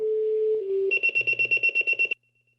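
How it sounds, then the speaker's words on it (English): Fire department dispatch alert tones sound: a long steady tone shifts to a second pitch, then about ten rapid, evenly spaced electronic beeps follow before cutting off to near silence. "Those tones are us getting the call."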